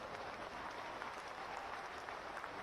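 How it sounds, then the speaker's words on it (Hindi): A crowd applauds at a political rally of the BJP Jan Ashirwad Yatra in Khandwa, with a dense, even patter of clapping heard from within the audience. "तो इस पे तो जोर से ताली बजाओ ना"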